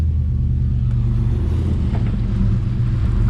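A cammed Chevrolet Silverado with a new exhaust rolls through a yard in full auto on cheap Firestone Destination tires, giving a steady, loud low engine rumble with some wind buffeting and no talking.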